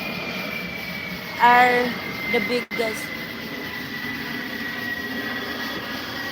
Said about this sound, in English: God, that airplane is loud.